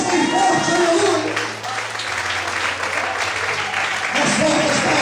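A church congregation claps loudly in praise during a sermon, a broad continuous wash of hands over sustained keyboard notes, with voices calling out within the crowd noise.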